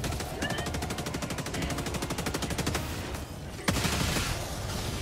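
Rapid automatic gunfire and repeated shots from a Helldivers 2 battle against bots, loud and dense with a heavier blast near the end, over a battlefield din.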